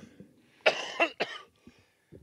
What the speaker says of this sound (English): If you keep coughing, you're never going to get through it.